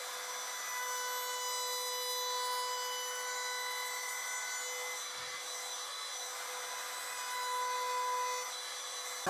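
Router with a roundover bit shaping the edge of a pallet-wood box lid, a steady loud high whine with a faint cutting rasp running continuously for about nine seconds.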